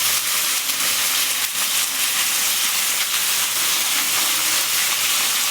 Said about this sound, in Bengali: কাঁকড়াগুলো একটু তেলে হালকা ভেজে নেব।